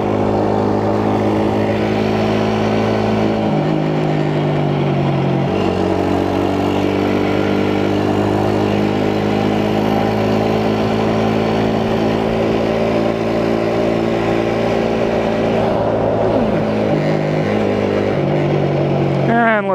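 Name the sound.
Chinese quad ATV engine while riding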